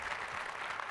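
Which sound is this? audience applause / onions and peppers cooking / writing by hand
audience applause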